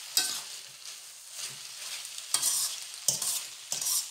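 Vegetables for chicken chow mein are stir-fried in a hot pan, with soft sizzling broken by several sharp scraping, tossing strokes of the spatula, fairly quiet and with no talking.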